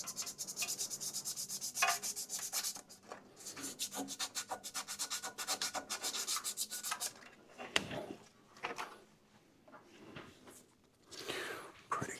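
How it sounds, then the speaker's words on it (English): Rust being rubbed and scraped off the magnet on the flywheel of a Kohler V-twin engine from a Toro Titan mower, a close, steady rasping scrub in repeated strokes with brief pauses, and light breathy noises mixed in. "We can clean up the magnet just for the heck of it."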